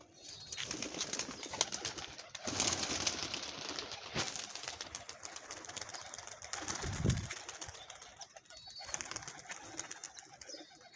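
Pigeons coo softly amid a rustle of flapping wings, with a fuller burst of wingbeats partway through; outdoor background noise throughout.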